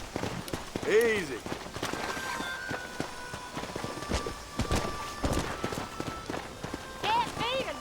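Horses in a Red Dead Redemption race gallop along with quick repeated hoofbeats, joined by a whinny and scattered game sounds, with a voice talking over the action.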